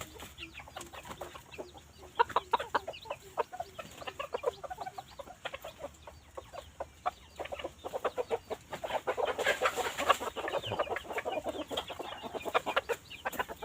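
Short-legged Thai bantam chickens cluck in a steady run of short, close calls, with rooster-like bursts swelling louder toward the end over faint farmyard background.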